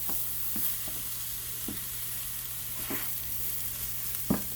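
Half a batch of cooked jasmine rice fries in a pan for veggie and chicken fried rice, a steady low sizzle broken by a few short scraping stirs, close and fairly quiet, with no talking.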